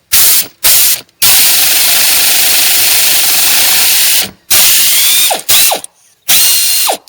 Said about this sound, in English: Even the air ratchet's having a hard time.